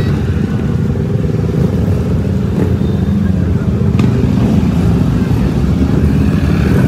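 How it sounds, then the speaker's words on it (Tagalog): Big motorcycles ridden past in a group show, a loud continuous engine roar rumbling close by with brief swells as bikes go by, and voices faintly mixed in. "Malalaki yung mga motor nila yung mga rider, ayan na sila"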